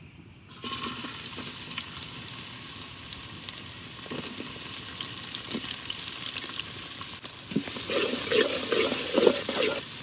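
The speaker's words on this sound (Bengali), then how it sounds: "পেঁয়াজ আর রসুনটাকে হালকা একটু বাজে নিলাম।" Onion and garlic hit hot oil in a cooking pot and sizzle steadily, a loud continuous frying hiss that starts abruptly and carries on with small stirring clatters throughout.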